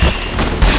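Loud rapid gunfire from the video game Bloody Playground crackles in a dense, close burst, with heavy booming hits near the start and again toward the end.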